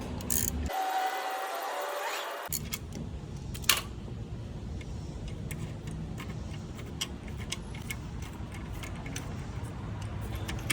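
A ratchet wrench loosens the alternator belt tensioner on a Toyota Corolla, giving a run of light metallic clicks over steady low engine-bay hum, with one sharper knock partway through.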